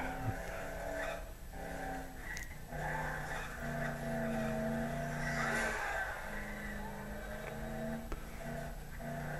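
A car drives in the Dead Island video game, its engine holding a steady, loud drone with tonal hum and faint tire noise throughout, with no speech.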